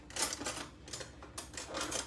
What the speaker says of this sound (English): now I'm gonna use a knife and just cut it into sections